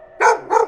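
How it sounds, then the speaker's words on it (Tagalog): Dog barking twice in quick succession, loud and close, two sharp barks as a sound effect in a spooky Filipino aswang horror story, with no talk over it. "Tahol din ito ng tahol."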